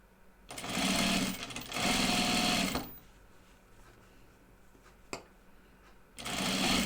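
A domestic sewing machine stitches fabric for a chicken-themed project bag in two long steady bursts, pausing between them, then starting up again at the end; close and fairly loud.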